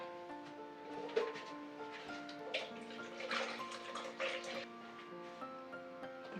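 Water pours and splashes gently into a jar of plums being fermented, close and quiet, with faint ringing tones in the background.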